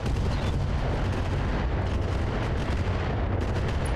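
Laser turrets firing in the mech game BattleTech RogueTech, heard as a dense, loud barrage of blasts and rumbling impacts that keeps going without a break for the whole stretch.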